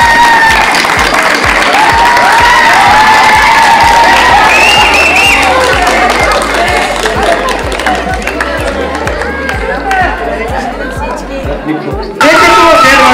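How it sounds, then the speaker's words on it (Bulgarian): A crowd on a farm reality show greets a new team member with loud applause, cheering and excited chatter, voices mixed throughout before an abrupt cut near the end. "Нека посрещнем с бурни аплодисменти нашето ново попълнение в екипа на фермата."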